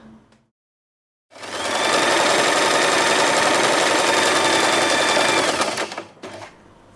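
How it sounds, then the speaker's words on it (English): Sewing machine running steadily for about five seconds as it stitches folded satin fabric for a hair bow, loud and close with a fast even buzz, starting after a short silence and stopping abruptly near the end. "So we fold the fabric in half and sew right here."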